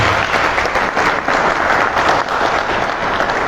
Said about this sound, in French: le vice-président Georges-Philippe Ezalé, que je vous demande d'applaudir.